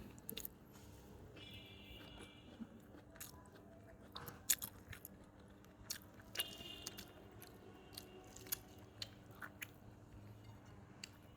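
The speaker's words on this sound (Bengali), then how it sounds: "তো এখন খাবো আমি এই যে পটলের চাক ভাজি করে নিছি" Close, crunchy chewing of fried pointed gourd slices, with soft bites and squishy mastication repeating irregularly over a low steady background hum.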